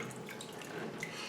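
Water trickles and drips softly through the holes of an orchid pot set in water, a faint, continuous liquid patter heard alone.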